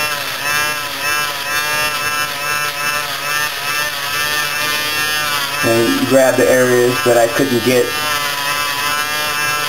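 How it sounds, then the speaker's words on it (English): An electric super close shaver buzzes steadily while trimming a beard line, a close, constant motor drone with a brief rougher burst as it bites into hair, under a man's speech. "Then I come back with the super close shaver."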